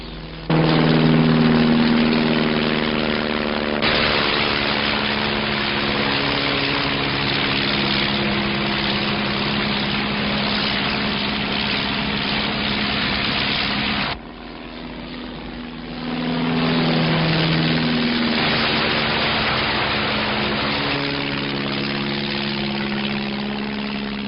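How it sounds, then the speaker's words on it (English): A propeller plane drones loudly overhead, its engine note steady and close, then briefly dropping before swelling again as it passes. "There's an aeroplane coming."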